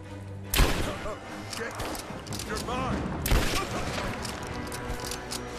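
Rifle gunshots in Rise of the Tomb Raider, two loud sharp blasts a few seconds apart, each ringing out over a busy bed of game ambience and background sound.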